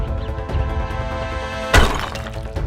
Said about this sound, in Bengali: জাদু হাঁড়ি যে ভেঙে গেল